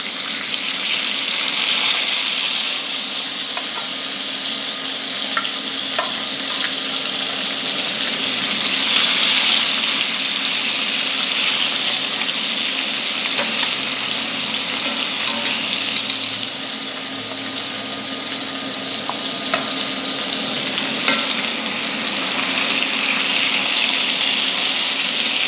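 Oxtails browning in a hot pan for a Jamaican-style dish give off a steady, broad hiss of sizzling that swells and eases over time, moderately loud and continuous with no talking.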